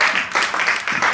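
An audience at a French self-defense training session claps steadily in a dense, close burst of applause with no pauses.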